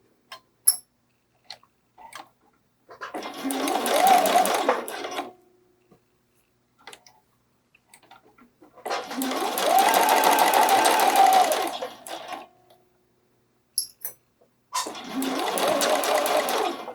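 A domestic sewing machine stitches over the flattened dart seam allowances of a bralette, running in three sustained bursts of steady, close whirring with brief pauses and small clicks between them.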